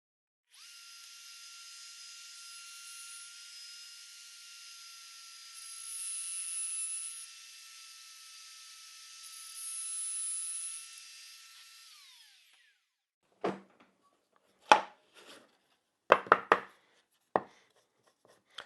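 A wood router with a 1/4 inch bit cutting a slot in wood: a steady high motor whine rising in pitch twice as it bites, then spinning down, followed by a few sharp knocks and clatters.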